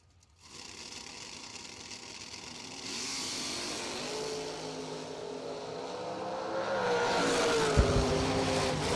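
Drag-racing Camaro and Mustang roar down the strip at a $500K sportsman event in Bushnell, Florida, their engine noise building from a distant drone into a louder, rising howl with a brief sharp crack near the end.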